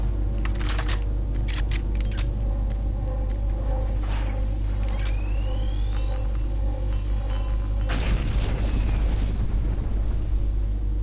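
A grenade goes off in Doom 3 with a sudden loud, rumbling blast near the end, after a stretch of clattering, whirring and sweeping game sounds.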